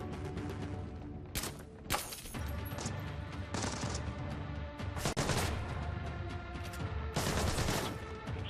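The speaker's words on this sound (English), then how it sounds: "You can hear the gunfire." Gunfire from the stealth shooter game Blacklist, with dense rapid bursts of shots and several loud sharp volleys cutting through a steady backdrop of game sound effects.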